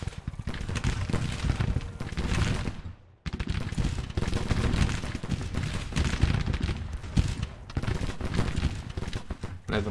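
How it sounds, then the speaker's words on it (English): Cannon and artillery fire with massed gunfire in Grand Tactician Civil War, a Civil War battle game, at Pine Mountain; a loud, continuous rumble of booms and volleys, cut by one brief drop near the start before resuming. "Can these cannons fire on them?"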